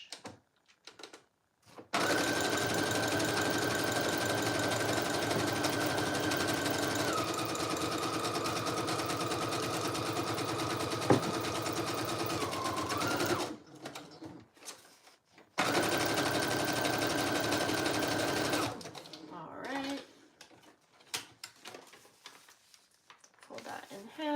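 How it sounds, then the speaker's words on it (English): A sewing machine runs a zigzag stitch in two long steady bursts of motor whir, close and loud, separated by quiet pauses with small handling noises. "I'm going to use a zigzag stitch"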